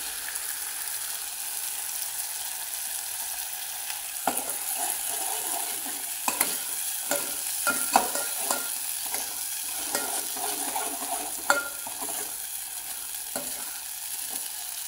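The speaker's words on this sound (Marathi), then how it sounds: "असं छान हलवत राहायचं, कारण मसाला खालून करपत नाही।" Masala fried in a pan for a festive amti with coconut, bajri and coriander-onion paste, sizzling steadily throughout while a spoon scrapes and stirs it in irregular clicks and knocks, close by with no talking.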